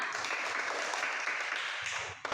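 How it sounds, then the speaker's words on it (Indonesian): Classroom of children applauding group 3 after a lesson on symmetrical objects, a dense burst of clapping that runs steadily then drops off near the end, with a faint voice breaking through. "Oke, tepuk tangan buat kelompok 3."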